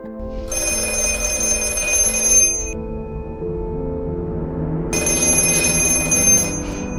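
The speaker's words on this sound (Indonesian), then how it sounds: "Keanehan mulai terjadi ketika telepon yang rusak itu berdering" An old-style telephone bell rings loudly in two long bursts separated by a short pause, bright and metallic, close by.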